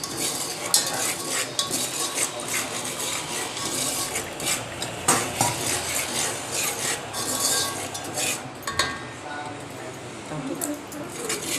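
Sago being stirred in a hot pan over a low gas flame, giving continuous scraping and rubbing with intermittent utensil clinks against the pan, close by, with a voice talking over parts of it.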